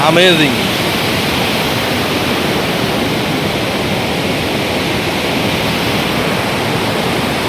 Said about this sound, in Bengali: ঝর্ণা বয়ে গিয়েছে